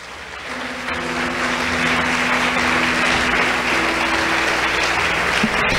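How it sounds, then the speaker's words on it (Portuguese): A church congregation applauds during a sermon, the clapping swelling in and holding steady and loud for several seconds, with sustained low keyboard tones underneath. "Você pode aplaudir o Senhor por isso?"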